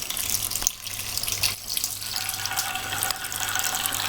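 Wort from the second runnings pours steadily out of a small homebrew mash tun during an amber ale brew, a close, continuous splashing trickle like a running tap, with no talking.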